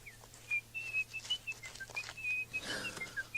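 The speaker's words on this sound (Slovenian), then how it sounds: "Žvižga alarm." A whistling alarm in a Slovenian children's fairy tale about a mole sounds as a thin, high warbling tone that rises and falls in repeated short bursts for several seconds, with faint rustling beneath.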